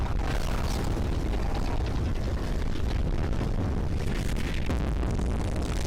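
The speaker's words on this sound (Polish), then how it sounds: "O kurde, jaki wybuch." A sustained, rumbling roar of a large explosion, dense and loud throughout, with crackling debris-like texture.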